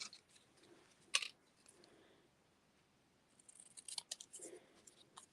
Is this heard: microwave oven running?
no